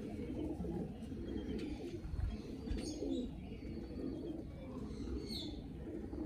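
Soft cooing from a Kamagar pigeon repeats over a constant background hum, with a few faint chirps mixed in; no one speaks.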